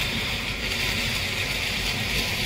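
Strong wind roars steadily across the microphone during a corn harvest, a constant broad rushing noise with no letup.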